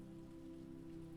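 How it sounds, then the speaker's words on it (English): Soft, steady spring rain patters gently on a Tudor balcony, a quiet continuous hiss with no other sounds. "a soft spring rain blankets everything"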